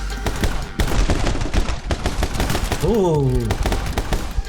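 Rapid bursts of gunfire from shotgun and assault rifle enemies in the video game My Friend Pedro, loud and dense, with a brief exclamation from a player over the shooting.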